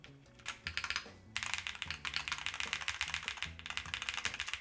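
Rapid clacky keystrokes on a mechanical keyboard with teal Hall effect switches, a brief pause, then a steady burst of dense typing, close and crisp with no talking.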